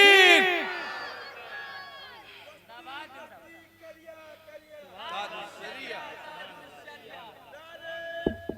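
Large religious gathering answering the Nara-e-Takbir call, a crowd of voices chanting together in a loud, reverberant swell that rises and falls, with a strong lead voice and echoing loudspeaker sound.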